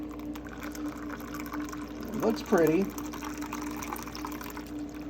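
A cocktail with two slices of fresh jalapeno is poured from a shaker into a glass, a short liquid splash and glug rising in pitch midway through, while a person briefly speaks under a low hum.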